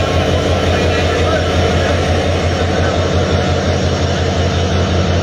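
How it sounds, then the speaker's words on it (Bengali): The Ekota Express, a train from Dhaka bound for Panchagarh, pulls out of Piroj railway station with a loud, steady, broadband rumble and a low engine hum that run unbroken throughout. "ঢাকা থেকে ছেড়ে আসা একতা এক্সপ্রেস ট্রেনটি পিরোজ রেল স্টেশন ছেড়ে যাচ্ছে"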